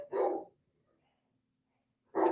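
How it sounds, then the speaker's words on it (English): Two sharp, close dog barks, one at the start and another about two seconds later, with near silence between them. "That might be the dog"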